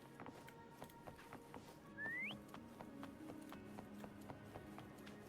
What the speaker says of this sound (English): Why don't you call Foam over? Try whistling.